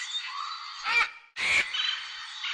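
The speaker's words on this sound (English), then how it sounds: "The condor is one of the largest birds in the world." A condor, one of the largest birds in the world, gives two harsh, raspy calls close by, each a short breathy burst over a steady high background hiss.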